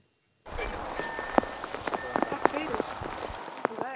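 A rain shower outdoors at Bessastaðir as government ministers hurry through it, with steady patter and scattered sharp drops hitting surfaces, close and fairly loud, starting abruptly after a moment of silence and continuing throughout.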